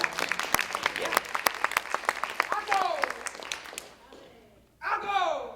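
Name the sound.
audience applause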